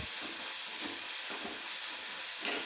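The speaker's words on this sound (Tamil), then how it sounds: "வெங்காயத்தை கரியாமல் நன்றாக வதக்குங்க." Onions sautéing in a pan for a prawn gravy, a steady close sizzling hiss that holds evenly throughout with faint stirring knocks underneath and no talking.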